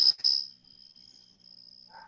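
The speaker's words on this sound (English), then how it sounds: "I literally hear crickets." A chirping crickets sound effect, a steady high insect trill running through the whole moment, loud at the start and then fainter and sustained, with no talk over it.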